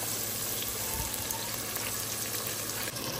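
Curry with onion, chili and salt cooks in a pan on a stove, giving a continuous soft sizzle and light crackle at close range, steady throughout, with no talking.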